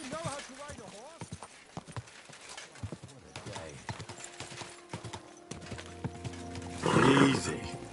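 Horse hooves clip-clopping in Kingdom Come: Deliverance II, a steady rhythmic trot up close under talk and whinnying game sounds, with a louder burst of noise near the end.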